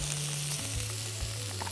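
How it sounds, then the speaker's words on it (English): Beef chunks sear in hot oil in a pan for a slow-cooker barbacoa, a close, loud, continuous sizzle with a low steady hum underneath. "I'm gonna add the meat and let it get a sear."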